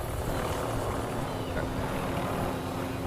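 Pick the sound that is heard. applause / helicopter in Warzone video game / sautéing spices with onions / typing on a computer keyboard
helicopter in Warzone video game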